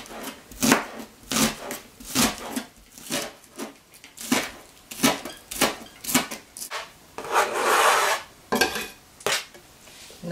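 A knife chops whole spring onions, white and green parts alike, on a board for a radish, dill, cucumber and avocado salad. It makes a steady run of crisp, close taps with a brief scraping rub partway through, and there is no talking.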